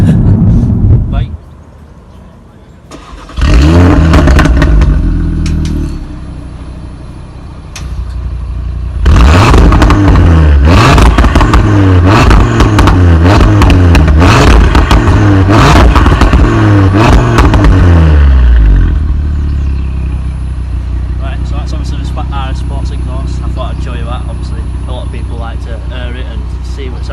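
A 2018 Audi RS3 engine revs loudly and close by, with harsh bursts and a sustained high-revving stretch followed by a settling idle, with a voice talking briefly early on.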